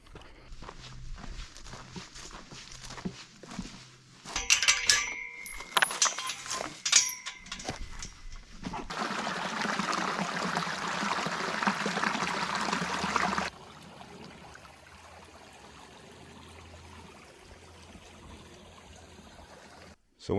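Creek water runs across a desert hiking trail near Seven Springs, with footsteps crunching close by. A steadier rushing flow swells in the middle and then fades to a softer background trickle.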